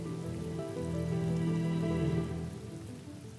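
Rain falling steadily on surfaces, a soft continuous patter of raindrops at low volume, with a faint tonal hum running underneath and no voices.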